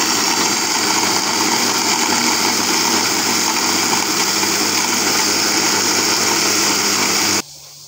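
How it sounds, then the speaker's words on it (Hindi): Electric grinder whirring steadily as it grinds hot roti for sweet laddoos, a loud constant high-pitched motor whine that stops abruptly near the end. "मैं ग्राइंडर में ग्राइंड कर लेती हूँ रोटी को।"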